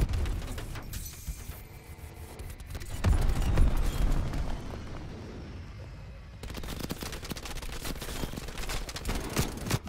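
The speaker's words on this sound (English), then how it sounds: "war machine firing." War Machine grenade launcher firing in Call of Duty Black Ops Cold War, with repeated loud booming blasts and dense bursts of gunfire that swell in the middle, then continue as sharp rapid cracks toward the end.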